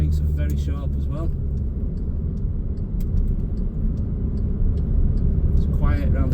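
A Volkswagen Transporter 2.0 TDI T30 Highline front-wheel-drive long-wheelbase van drives on the road with a steady low engine and road rumble from inside the cabin, while someone talks over it.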